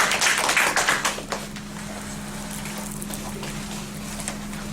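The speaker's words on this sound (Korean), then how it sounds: "일단 박수 한번 주시죠." A lecture audience at Soongsil University gives a short round of clapping that fades within about a second, leaving a steady low room hum.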